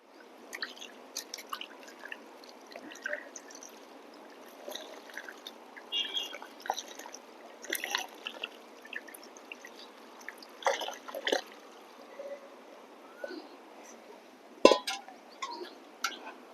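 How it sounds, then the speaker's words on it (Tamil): Water poured onto a potted chrysanthemum plant, heard as faint, irregular drips, splashes and soft squishing soaking into soil, with occasional light clinks, close by with no talk. "நம்ம வந்து இப்போ செடி தண்ணி ஊற்றிடலாம்"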